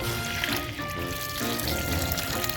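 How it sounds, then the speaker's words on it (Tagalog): Water pours steadily into a container, trickling and splashing continuously at a moderate level close by, with no one talking. "Lagyan natin tubig."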